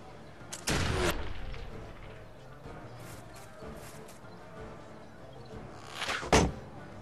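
Gunshots ring out in the video game Expeditions Conquistador, with two sharp, fairly loud bursts spaced several seconds apart over a quiet, low background.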